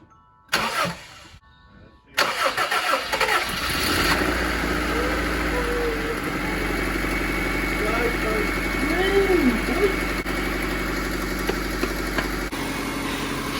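A Honda Civic EF engine, just back together after a head gasket job, cranks briefly, catches, then settles into a steady idle that hums on continuously, with people talking excitedly over it.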